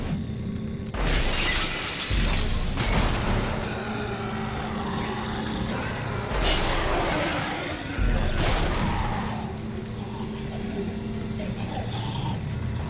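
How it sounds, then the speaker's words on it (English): Glass shattering in the sci-fi horror video game Dead Space 2, with several loud crashing bursts and booms breaking over a steady low game rumble, with a voice faintly present. "I guess I need to actually shatter the glass"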